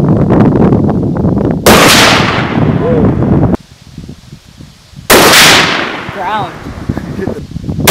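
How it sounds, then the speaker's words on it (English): 7mm Magnum bolt-action rifle fired outdoors in Northern Ontario, two loud, sharp blasts a few seconds apart, each with a long echoing decay, while people talk and exclaim around the shots. "Chris, we got a 7mm bolt action Magnum."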